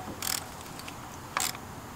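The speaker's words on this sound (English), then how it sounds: "Socket and a ratchet." Socket and ratchet snugging a valve cover bolt on a Nissan Versa SL engine, two short bursts of close metallic clicking separated by a pause.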